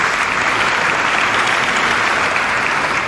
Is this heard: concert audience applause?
yes